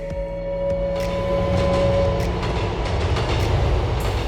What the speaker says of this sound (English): retextured trains based on the real R38s, and updated announcements and train audio